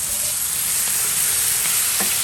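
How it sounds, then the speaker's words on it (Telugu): Marinated pomfret fish frying with onions in a hot pan, a loud continuous sizzle close to the mic with a few faint clinks. "సో ఆ మ్యారినేట్ చేసిన ఫిష్ ఆనియన్స్ బాగా ఫ్రై అయిపోయాక డైరెక్ట్గా వేసేస్తున్నాడు"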